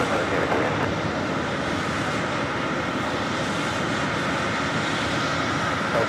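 A Boeing 737 takes off from a runway at JFK, its broad jet engine roar steady and loud throughout, with a faint radio voice beneath it.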